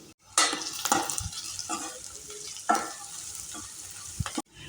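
Curry leaves and crushed garlic hit hot oil in a pan for a North Karnataka fenugreek-greens and green gram palya, crackling and sizzling up close while a spoon clinks and scrapes in a few bursts.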